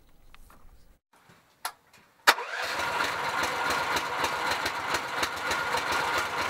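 Homemade mini tractor engine starting: a few faint clicks and a sharp knock from the starter, then the small engine catches and settles into a steady, close, rattling idle with a regular chugging pulse.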